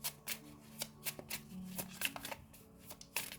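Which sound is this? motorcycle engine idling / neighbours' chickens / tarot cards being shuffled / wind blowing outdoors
tarot cards being shuffled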